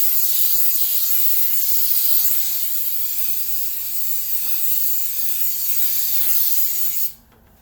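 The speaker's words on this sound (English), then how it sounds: "I'm going to spray it down with some coconut oil cooking spray." A continuous hiss of coconut oil aerosol cooking spray onto aluminum pans, close and loud, running for about seven seconds before cutting off abruptly.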